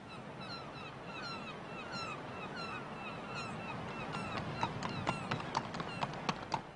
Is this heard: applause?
no